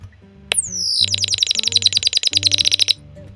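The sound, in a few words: vintage Chirp-ee chirping bird Christmas ornament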